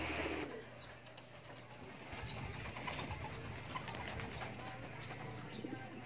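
Racing pigeons just released outdoors, with soft cooing and wing flutters over a faint background hum and rustle, low and continuous with a slight rise in activity partway through.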